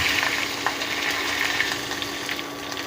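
Curry leaves and mint leaves frying in hot oil with fennel seeds for chicken gravy, a loud, steady, close sizzle that runs throughout with faint stirring clicks.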